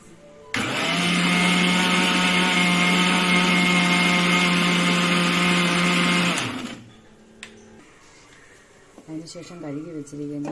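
A kitchen mixer grinder whirs loudly as its jar grinds a batch of spices, running steadily for about six seconds before spinning down, followed by quiet clatter and a faint voice.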